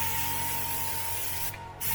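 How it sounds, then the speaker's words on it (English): Brake cleaner sprayed onto the brakes of a 2012 Jetta, a steady close hiss lasting nearly two seconds that cuts off briefly near the end before resuming, with a low mechanical hum underneath. "Just spray it down, man."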